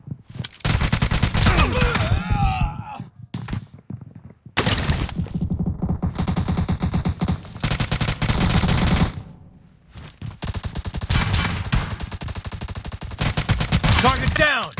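Heavy gunfire in the mobile game BGMI, long loud bursts of automatic fire and rapid shots broken by short pauses, close and dense throughout.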